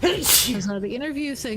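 One sharp, loud sneeze close by at the start, then a person talking.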